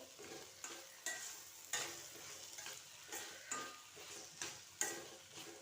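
Hyacinth beans (avarekai) frying in oil, a soft steady sizzle broken by a regular rhythm of stirring scrapes against the pan, close and fairly quiet.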